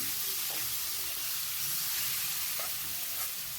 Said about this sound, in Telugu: ఇప్పుడేమో నేను కడిగి పెట్టుకున్న చికెన్ అండి హాఫ్ కేజీ చికెన్ వేసుకున్నానండి